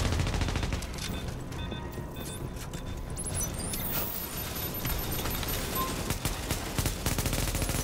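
Rapid, dense gunfire in a video game battle, loud bursts and near-continuous automatic fire with sharp metallic cracks, barely pausing from start to finish.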